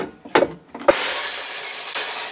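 Beech wood sticks sawn into 1.5 cm pieces, with a couple of short sharp scraping strokes followed by a sustained close rasping cut.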